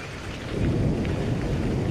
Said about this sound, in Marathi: ढगांचा गडगडाट, रिमझिम पडणारा पाऊस